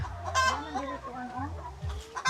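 Chickens cluck and murmur close by, a few overlapping calls with a brief higher squawk, farmyard-style.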